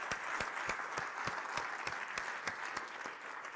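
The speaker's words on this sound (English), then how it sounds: "can we give them an enormous round of applause, please?" Applause for the technical crew at a teachers' conference evening in a London hotel, a steady dense wash of clapping with a few sharper individual claps standing out, even in level from start to finish, with no one speaking.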